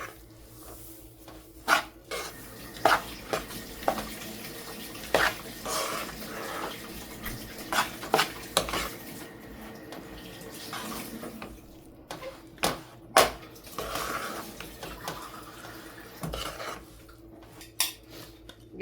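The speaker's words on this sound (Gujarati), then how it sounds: "એને ફટાફટ મિક્સ કરી દેવાનું છે." Sesame chikki mixture stirred quickly in a pan, a spoon scraping and clanking against the metal in irregular sharp knocks over a steady low background.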